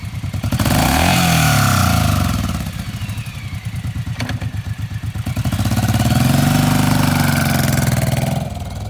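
Used 2009 Suzuki Boulevard C109RT big-bore V-twin motorcycle idling close by, a loud, lumpy pulsing exhaust with a couple of brief throttle swells and mechanical clatter, no talking.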